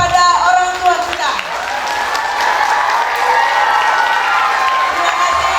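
A crowd at an Indonesian vocational school graduation and capping ceremony breaks into sustained loud applause and cheering for the parents, mixed with hall reverberation after a brief spoken cue at the start.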